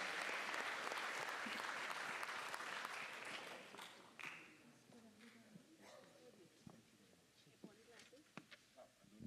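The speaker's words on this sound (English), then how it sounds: "A round of applause to welcome our chairman," An audience claps to welcome chairman Ansel Valley at an anti-bullying event; loud applause fills the first seconds, then thins into scattered individual claps as voices and murmurs take over.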